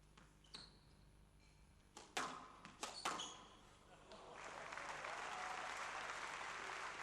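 Sharp squash ball strikes crack against the walls in a championship semifinal, then audience applause swells and holds steady for a great rally while a commentator talks.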